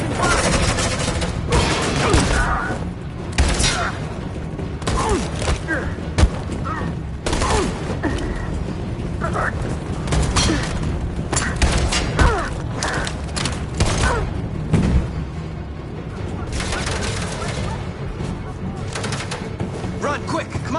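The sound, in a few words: gunfire in the video game Detroit: Become Human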